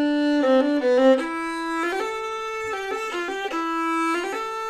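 A solo violin plays a Dounis exercise rhythm pattern, a quick run of bowed notes repeated on one string after another, sounding close, clear and steady with no talking.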